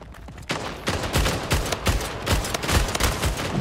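Video game gunfire in Splitgate, a sci-fi arena shooter: repeated sharp shots in an irregular rhythm over constant background game noise, fairly loud and close, with no talk.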